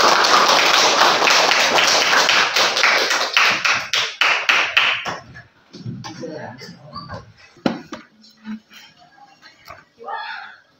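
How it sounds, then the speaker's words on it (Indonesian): Classroom group claps loudly in a fast, dense burst that thins into scattered taps and fades after about five seconds, followed by quiet voices and sparse thuds. "tepuk tangan"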